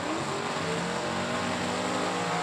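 Drag racing cars at a Super Pro bracket race run down the strip toward the finish line, a steady loud engine roar with rising harmonic tones and no break.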